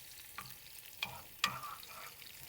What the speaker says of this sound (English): So I'm going to add fresh dill. I hope you can hear that sound.